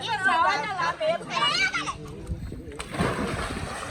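A person enters cold water in an outdoor swimming pool at a country farm gathering, with splashing and sloshing heard under children's voices and excited chatter nearby.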